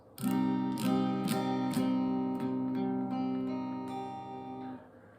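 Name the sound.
guitar minor barre chord strummed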